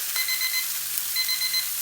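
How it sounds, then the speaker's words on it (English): Kitchen timer alarm beeping in two short bursts of rapid high tones, faint over a steady sizzle of steak cooking in a pan. "Here's my timer. I'm going to shut it off, and it goes back to 3 minutes automatically."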